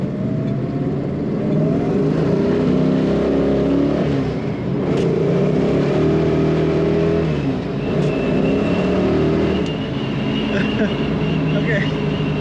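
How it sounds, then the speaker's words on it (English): A 1970 Dodge Challenger muscle car engine revs and roars steadily as its tires spin, with a rising surge early on, loud and close throughout, with voices murmuring faintly beneath. "some of that was spinning the tires"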